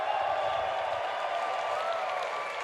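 Muted applause rises from members of Congress gathered for the 2020 State of the Union address, a sustained, even clatter of many hands filling a large chamber, with faint murmur beneath.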